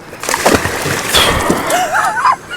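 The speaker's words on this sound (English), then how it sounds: "That was my fault there. I splashed crap everywhere." Water splashes loudly and close as a catfish is handled, with repeated sloshing bursts and thrashing, and a brief whistle-like squeak near the end.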